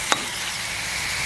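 Spices sizzle and fry steadily in a pan while being sautéed for a spicy Jaffna crab curry, a soft continuous crackle with one brief stir clink near the start and no talking.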